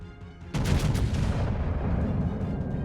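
Ship turret guns fire in the World of Warships video game, a loud close boom of a naval salvo that rumbles and rolls on for a couple of seconds, with no talking.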